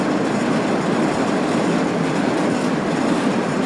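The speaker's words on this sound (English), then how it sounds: "The train's running away from me." Heavy freight train descending a grade in Train Sim World 3, a steady loud rumble of wheels and rail noise with no talking over it.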